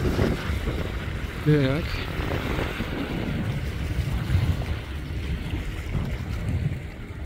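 A boat moves on the Ruza reservoir, its steady rumble blended into heavy wind buffeting on the microphone and water noise, with a brief spoken word from a nearby person.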